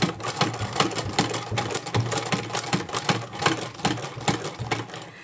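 A 1936 Singer sewing machine stitching steadily, a rapid rhythmic mechanical clatter of needle strokes at close range, continuous and fairly loud with no talking.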